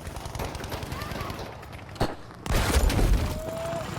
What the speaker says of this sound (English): Nice grenade. Good grenade action right there.